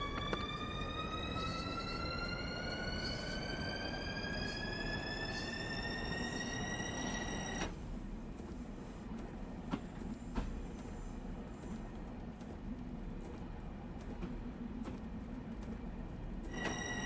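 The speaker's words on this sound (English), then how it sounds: "You'll also hear the squeal a bit more with train wheels because the actual shape of the wheel amplifies it." A Long Island Rail Road train in Train Simulator Classic rolls slowly along track, its wheels squealing in a high rising whine over the steady rumble for about eight seconds, then the squeal drops away leaving wheel rumble and occasional clanks.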